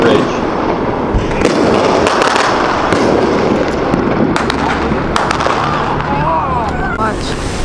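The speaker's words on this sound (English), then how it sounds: "These were just people standing on the bridge firing off these fireworks" Fireworks set off by people standing on a bridge in Newport, Oregon crackle and pop in rapid, irregular bursts at moderate distance, over a constant outdoor rumble with crowd noise in the background.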